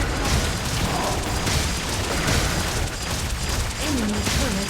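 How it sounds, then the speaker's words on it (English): Turret destruction in the Wild Rift mobile game: a dense, continuous booming explosion rumble fills the whole stretch at steady loudness, with a brief rising-and-falling tonal game sound near the end. "Enemy turret destroyed."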